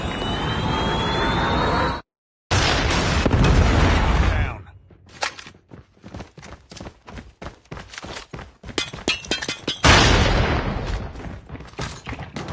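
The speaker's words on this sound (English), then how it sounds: "Friendly Predator missile inbound." A Predator missile strike in Call of Duty Mobile, with loud, heavy blasts and rumbling explosions, a short cut-out, and then scattered sharp bangs of ongoing combat.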